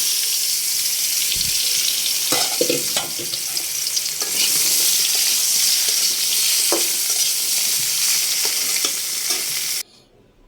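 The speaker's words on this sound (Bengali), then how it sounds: "এই যে এই তেলে আমি পটলটাও ভেজে নেব। পটলটা দিয়ে দিলাম।" Pointed gourd frying in hot oil, a loud continuous sizzle with scattered pops and stirring knocks, cutting off abruptly at the end.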